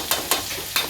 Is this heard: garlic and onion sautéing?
yes